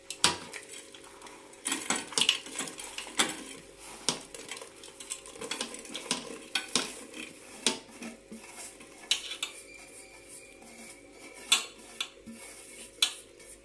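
A spoon clinks and scrapes against a pot as powdered jaggery is stirred into simmering moong dal and vermicelli payasam, with irregular metallic taps and knocks throughout and no talking.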